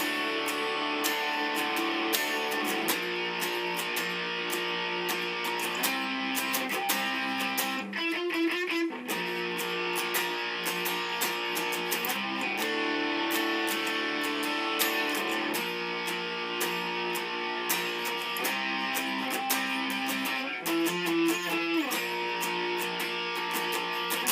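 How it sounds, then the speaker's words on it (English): Distorted electric guitar plays the chorus of a song: steady, loud strummed power chords that change every few beats, with brief sustained bends near the middle and toward the end, dense and continuous throughout. "And then we're into the chorus, where it sounds like this."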